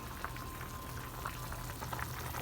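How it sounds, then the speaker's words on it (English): Black-eyed peas boil in a pot on a home kitchen stove, giving a steady, close bubbling and popping simmer with a constant wash of small bursts and no talk. "I've got my peas boiling."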